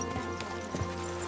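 Horse hooves clip-clopping at a steady walking pace in a medieval role-playing game, close and even, with light background ambience underneath.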